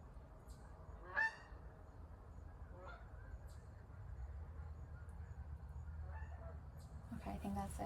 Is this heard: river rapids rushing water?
no